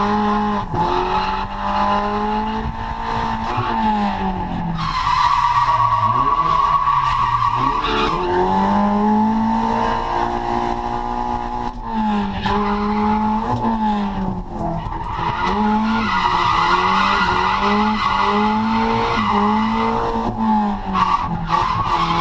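A freshly tuned car pushes hard around a race track on a track-day lap, engine note rising and falling through gear changes while tires squeal loudly through the corners, close and continuous with no talk.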